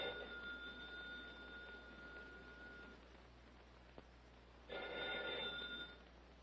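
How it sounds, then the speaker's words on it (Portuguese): An old telephone bell rings in two bursts, a steady electric jangle that stops, then returns after a pause, heard fairly close over a low background hum. "Eli, atenda o telefone, Eli."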